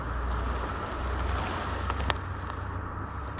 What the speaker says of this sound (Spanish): en la playa, escuchando las olas del mar, sin ningún ruido más.